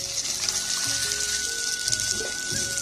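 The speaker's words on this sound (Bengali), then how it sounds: "কাঁচা লঙ্কা আর এখানে রসুন নিয়েছি, তো এখন ধুয়ে নেব" Green chilies and garlic rinsed under running tap water, a close, continuous splashing stream with light trickles and handling sounds, no voices.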